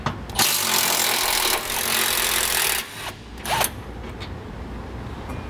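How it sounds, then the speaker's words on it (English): A socket wrench works loose the 15 millimeter bolts holding a jounce bumper on a 2017 Ford F-series truck, giving a continuous loud mechanical grinding and ratcheting that pauses briefly near the end, with no talking. "We'll remove these with a 15 millimeter socket."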